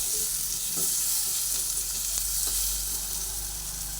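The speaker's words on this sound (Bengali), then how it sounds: "হলুদ গুঁড়ো দিয়ে আবার ভালোভাবে ভেজে নিচ্ছি" Potatoes fry with turmeric powder in a pan, giving a steady, dense sizzle close up, with a few light stirring scrapes and no talking.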